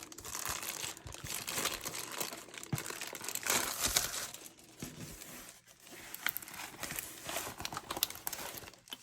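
Plastic packaging from a diamond painting kit crinkles and rustles close by as it is unwrapped, in irregular bursts of crackling and tearing that swell and fade over several seconds.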